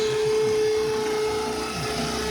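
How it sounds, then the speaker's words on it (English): A power drill bores into concrete in a work yard, giving a loud, steady whine with a rhythmic grinding pulse underneath that continues without a break. "just drilling into the concrete"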